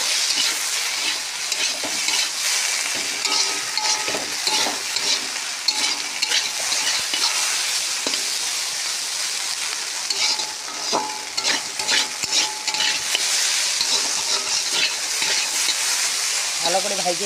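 Potatoes for aloo bhaji fry in plenty of oil, a steady close sizzle running throughout with frequent scraping and stirring clatter in the pan.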